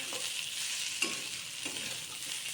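Flattened rice (poha) tipped into a pan for poha pulao and stirred against a steady background sizzle, with a few soft scraping strokes of the spoon.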